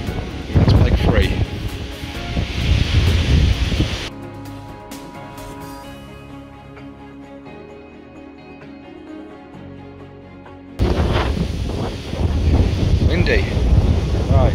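Heavy wind buffets the microphone in loud gusts at a carp fishing lake, dropping to a calmer stretch in the middle before roaring back, with a voice speaking at times.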